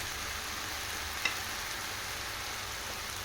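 Finely chopped tomatoes frying in a pan give a soft, even sizzle that stays faint and steady, with one brief click partway through.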